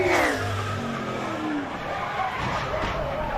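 NASCAR race car in qualifying at Lowe's Motor Speedway snapping around, engine whine and tire scrubbing sweeping down in pitch, with commentators talking over the crash noise.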